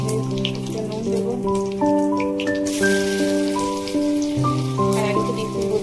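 Dry chillies, cumin seeds and curry leaves crackle and sizzle in hot oil with a steady rain-like spatter throughout, under soft background music.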